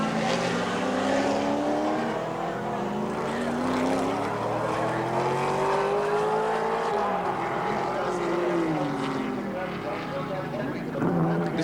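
Group C touring cars, among them a BMW, race at Symmons Plains in 1984, their engines rising and falling in pitch as they pass, under continuous commentary.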